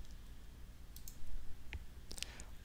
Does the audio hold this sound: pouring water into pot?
no